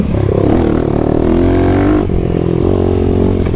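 A 2021 Kawasaki KLX300 dirt bike with a Barker aftermarket exhaust revs loudly and close by. The engine rises in pitch, holds a steady high wail, then dips briefly and climbs again.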